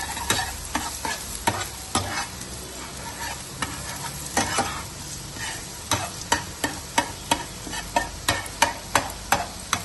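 A spatula breaks frying egg into small pieces in a pan for Chinese fried rice, making a soft sizzle at first and then a run of sharp, evenly spaced scraping knocks that grow louder toward the end.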